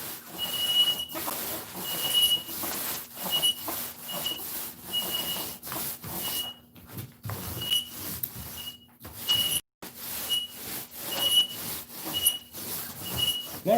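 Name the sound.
squeaky roller of projector screen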